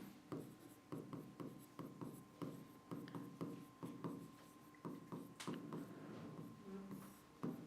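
Chalk or marker writing on a board during a physics class on wave optics, a rapid run of short scratchy strokes repeating throughout, close and clear with no talking.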